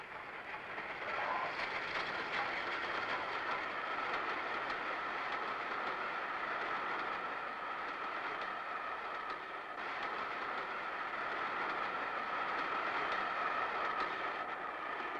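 A train rumbles steadily and loudly throughout at Tehran's railway station, a dense continuous roar with faint rail clatter and no voices.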